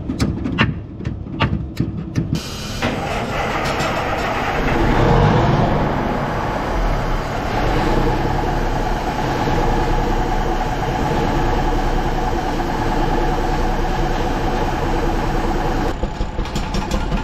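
A 1980 Autocar Construcktor truck runs steadily at close range, a dense continuous diesel drone after a few opening knocks and rattles, with no talking.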